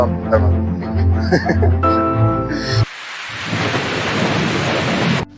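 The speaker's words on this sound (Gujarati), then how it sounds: "જો વરસાદ પણ ચાલુ થઈ ગયો છે" Voices and tonal sounds give way to a steady, loud hiss of heavy rain, with low rumbling underneath, like a thunderstorm nearby.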